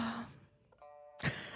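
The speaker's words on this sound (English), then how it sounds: "The yawning." A yawn sound effect: a drawn-out breathy exhale that fades, followed after a short pause by another brief breathy burst, heard alone.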